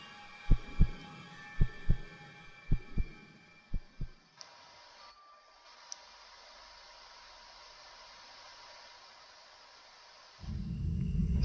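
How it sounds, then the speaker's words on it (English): In the video game Bendy and the Dark Revival, a heartbeat thumps as a series of deep, irregular beats over a low hissing drone, then fades into a muffled rumble. "Wait, I hear heartbeat."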